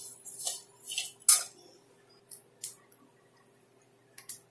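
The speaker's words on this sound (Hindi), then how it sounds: "आप इसको फुल गैस पे रख के हल्के हाथ से चलाते रहिए" A spoon stirring rice and lentils roasting dry in a pan on full heat, giving a handful of scraping, rattling sweeps and clinks in irregular bursts, close and fairly quiet, with pauses between strokes.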